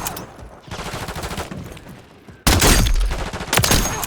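Jak Volkh rifle gunshots in Warzone MWIII, quick bursts of sharp firing in close succession, with a louder, harder volley in the second half.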